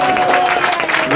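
Steady applause from a church congregation fills the room, a dense patter of clapping with voices mixed in.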